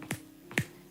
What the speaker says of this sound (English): snapping.